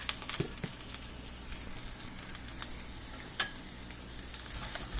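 Shrimp with chili and basil sizzle quietly in a pan for a Thai dish, a soft constant frying hiss broken by a few sharp clicks and scrapes of stirring.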